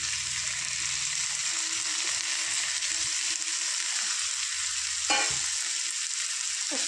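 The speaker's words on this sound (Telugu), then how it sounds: "ఇలా హై ఫ్లేమ్లో ఒక 5 minutes ఫ్రై చేసుకున్నాక సిమ్లో పెట్టి కర్రీ తీసుకుందాం" Curry with tomatoes and coriander frying in a pan on a high flame, a steady loud sizzle with a few soft stirring scrapes, heard alone throughout.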